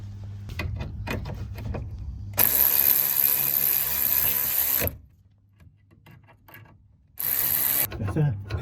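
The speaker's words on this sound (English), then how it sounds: "now we'll tighten up these 2 bolts" Two bolts on the brake bias valve bracket of a 16-valve Mk2 Golf GTI are tightened, with light knocks and scraping, then two loud sustained bursts of ratcheting or rasping separated by a quiet pause.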